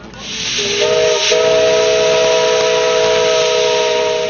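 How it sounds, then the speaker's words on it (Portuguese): Steam escaping from a steam locomotive at a station, a loud, continuous roaring hiss with a faint steady whistle-like tone running through it, close and unbroken with no talk. "O vapor sai da locomotiva com intensidade"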